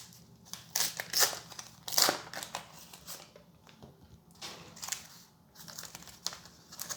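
1991 Upper Deck baseball card pack wrappers are torn and crumpled open, producing bursts of crisp crinkling and crackling foil that come and go over several seconds, close and fairly loud.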